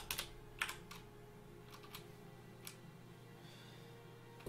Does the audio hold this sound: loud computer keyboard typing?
yes